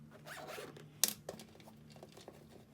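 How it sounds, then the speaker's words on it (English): An invisible zipper being zipped up on a sewn garment with waistband and lining: a close, quick ripping zip with a sharp burst and a few smaller scratchy follow-ups over faint room noise. "And now we can zip it up"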